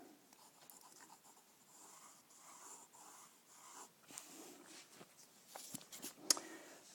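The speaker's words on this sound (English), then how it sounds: "So I'm going to start sketching this in lightly." A pencil sketching lightly on paper, soft faint scratchy strokes in short bursts, quiet and close.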